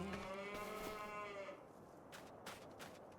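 Cattle mooing in a farming survival video game, with long harmonic lowing calls up front, then quieter and more broken near the end, no talk.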